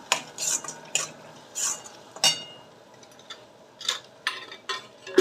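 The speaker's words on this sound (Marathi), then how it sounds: "ही कश्मीरी लाल मिरची अर्धा अर्धा टीस्पून आणि थोडी हळद हे पुन्हा असं अर्धा मिनिट छान परतून घेते" Kashmiri red chilli powder and turmeric being sautéed in a pan for a Varhadi paneer dish, heard as intermittent spoon scrapes and clinks against the pan with a faint sizzle underneath, fairly close and without talk.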